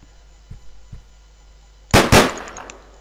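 Two sharp, loud gunshot cracks in the video game Deadbolt, fired in quick succession after a couple of faint thuds, over a quiet low hum.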